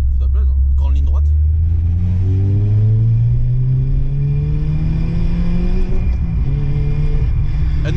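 A Renault Clio RS engine pulls hard down a long straight, its loud, close note climbing steadily as the revs rise and then holding high, heard from inside the car.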